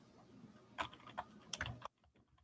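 A command is typed on a computer keyboard as a few quick, close clicks of keys in an uneven burst, ending abruptly, quiet with low room noise.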